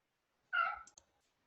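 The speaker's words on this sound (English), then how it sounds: "My cat wanted to go out." A house cat gives a short, close meow wanting to go out, followed by a couple of faint clicks in an otherwise quiet room.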